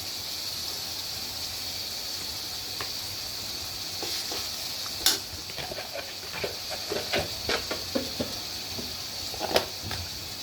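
Onions frying in hot oil for a taro (kochu) curry give off a steady, fairly quiet sizzling hiss throughout, with scattered sharper crackles and pops picking up in the second half.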